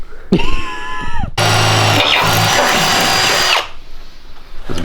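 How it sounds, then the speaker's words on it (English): A power drill whines loudly in two bursts, drilling holes for rosette welds, the second longer and steadier as the bit bites into metal, then stops. "we're going to drill holes in this for the rosette welds"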